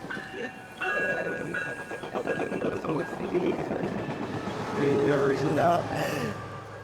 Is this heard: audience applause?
no